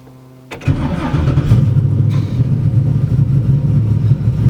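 A big Texas Speed LS3 V8 engine in a 1968 Chevrolet C10 truck cranks and fires after a moment of quiet, then settles into a loud, rumbling idle with a lumpy, throaty tone.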